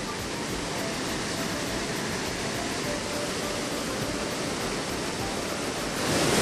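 A waterfall in Malatya, Turkey, gives a steady, dense rush of falling water, close and loud throughout, swelling slightly near the end, with no voices.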